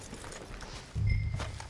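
Horses in the Red Dead Redemption 2 video game, low hoof thuds and shuffling that grow louder and heavier partway through, close by, with no talk over them.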